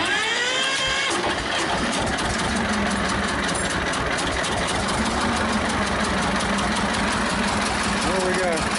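A Belarus tractor's diesel engine runs steadily on two cylinders after injector pump work and timing adjustment, a continuous loud mechanical chug throughout with a person talking over it.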